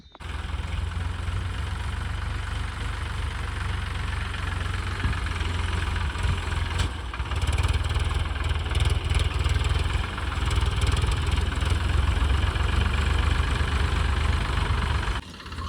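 A tractor engine idles steadily and loudly throughout, a continuous low rumble with slight knocking, running on without pause.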